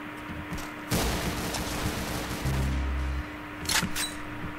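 Gunfire in the video game Arsenal, a loud shot at the start followed by a sustained burst of rapid automatic fire and another sharp crack near the end, heard alone without talk.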